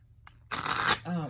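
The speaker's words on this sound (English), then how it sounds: "Let's shuffle real quick" Tarot cards being shuffled in a quick, dense burst of riffling close to the mic, followed by a short voiced sound.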